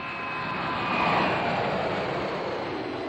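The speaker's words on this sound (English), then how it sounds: "The constant roar of jet engines disturbed its neighbors." Jet aircraft engines roar steadily at an airport set amid a residential neighborhood in Osaka, a dense, loud broadband rumble that swells slightly and holds without pause.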